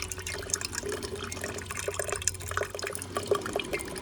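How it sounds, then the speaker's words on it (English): Water rinsing over vintage gold scrap, a steady trickling and splashing flow with dripping, close and moderate in level, with no talking. "See, we'll rinse that off carefully and see if we can not wash our gold over the side."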